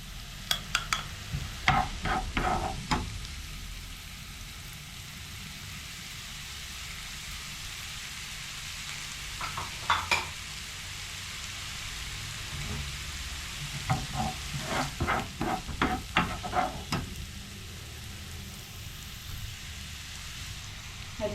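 Curry leaves sizzle in hot oil in a pan while cutlet filling is being cooked, a steady frying hiss broken by clusters of sharp crackles and spoon scrapes near the start, middle and end, with no voices.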